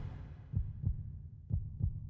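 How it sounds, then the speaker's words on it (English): Four deep, thudding heartbeats from the video game Jade Cocoon: Story of the Tamamyu, falling in two close pairs over a low, steady hum, with no one talking. "A lot of heartbeats."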